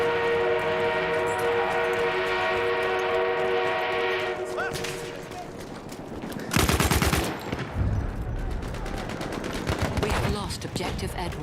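An enemy armored train in the video game Battlefield 1 rumbles with a horn-like tone, then bursts of machine-gun fire and shots erupt close by, with a player talking over the din.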